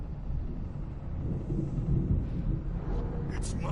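Thunder from a storm in the video game Alan Wake gives a deep, continuous low rumble that swells and rolls for a few seconds, loud and close.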